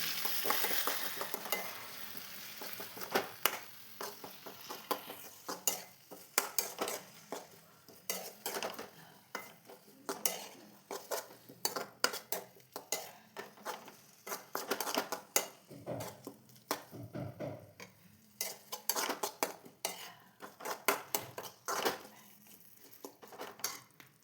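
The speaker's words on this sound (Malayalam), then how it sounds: "ആ തക്കാളിയുടെ പച്ചച്ചൊവയൊന്ന് മാറുന്നത് വരെ ഒന്ന് വഴറ്റിയെടുക്കാം." Chopped chilli and ground tomato sautéing in a pan for a Kerala tomato curry, with a steady sizzle and repeated scraping and clinking of a spoon stirring against the pan, close and continuous.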